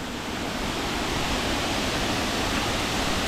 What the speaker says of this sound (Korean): 폭포를 바로 앞에서 봐요.